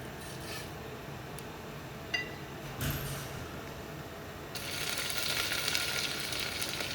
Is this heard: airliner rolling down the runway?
no